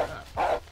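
A wolf in Minecraft gives two short, close barks, the second fuller and louder, with a brief pause between.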